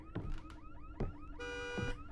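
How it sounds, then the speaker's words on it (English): A car alarm in the horror video game Visage cycles through rising whoops and a steady pulsing tone, mid-distance and clear, with no talking. "Is your child setting off the alarm on a car?"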